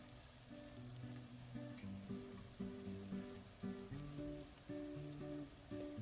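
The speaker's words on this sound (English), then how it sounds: "Then add the carrots and stir until the vegetables are coated with oil." Carrots are stirred in hot oil in a pan, a quiet continuous crackle and sizzle with faint scraping from the stirring.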